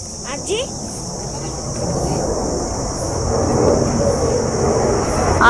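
A broad, steady roar slowly swells louder over several seconds, like an aircraft passing overhead, with a faint high hiss above it.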